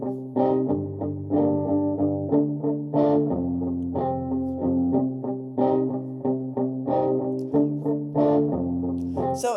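Muted, plucked guitar-like tones from a software instrument in a chunky rhythmic pattern, short damped notes over a low bass line, played steadily.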